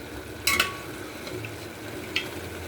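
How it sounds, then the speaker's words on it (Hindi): Mixed dal stirred into frying tomato paste in a pan, soft sizzling under a couple of sharp clanks from the ladle, close and alone. "मैं इसमें डाल रही हूँ मिक्स दाल के दाने दाने"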